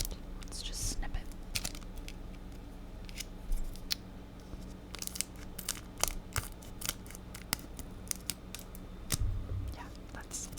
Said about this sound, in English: Let's just snip it.